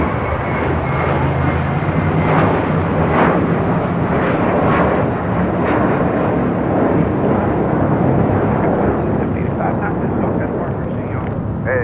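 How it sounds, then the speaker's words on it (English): A JetBlue Airways Airbus A321 takes off from LAX, its engines a dense, steady broadband roar that holds loud and close throughout, with a person talking over it. "This is JetBlue Airways 2785 taking off to Miami, Florida on an A321."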